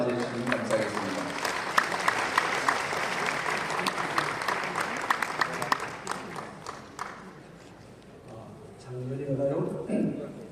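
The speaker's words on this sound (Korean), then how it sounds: "우리 뜨거운 박수로 맞이해 주시면 감사하겠습니다." Audience applause greets a pastor, Park No-su, arriving to give a church lecture on temple history; sustained clapping fills most of the clip, tapering off near the end as a voice begins speaking.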